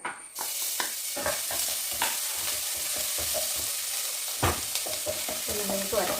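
Crushed ginger and garlic fry in hot coconut oil for a soyachunks masala curry. A steady sizzle runs throughout, broken by repeated scraping stirs of a spoon in the pan, close and fairly loud.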